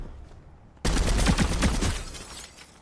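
Burst of gunfire in the Fortnite video game, a loud volley of rapid shots erupting suddenly after a quiet start and continuing for about two seconds before fading.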